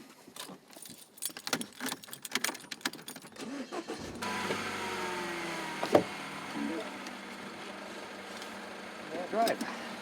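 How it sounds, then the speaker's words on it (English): Keys jangle briefly before a car engine cranks and catches, then settles into a steady idle with a faint click or two along the way; no talk over it. "Start the car."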